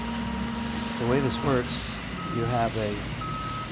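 A very large municipal leaf-collection truck with a claw, working in a street: its reversing alarm sounds in two short bursts of steady beeps over engine rumble, while a person talks.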